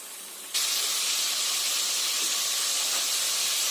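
Chicken pieces roasting in a hot pan, salted for a capsicum curry; a loud, steady hiss and sizzle bursts in suddenly and carries on close up without a break.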